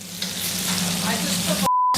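Sole frying in a hot oiled pan in a busy restaurant kitchen: a steady close sizzle that builds slightly, then a brief tone beep near the end.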